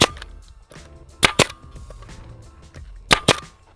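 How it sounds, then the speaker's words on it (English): A staple gun fires staples into the front of a Thrill Seekers motorcycle seat cover on a Stark Varg, with sharp close snaps in pairs, two near the middle and two near the end, over faint background noise. "I'm gonna go ahead, shoot a couple staples in the front."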